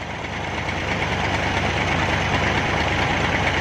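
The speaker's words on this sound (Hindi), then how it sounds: "कोई पुराना मॉडल ट्रैक्टर, इसमें परकिन का इंजन लगा हुआ है, पावरफुल इंजन है।" An old tractor with a Perkins engine runs steadily while lifting a heavy load of sugarcane, a loud continuous diesel rumble with a slight knock, close and unbroken throughout with no talk.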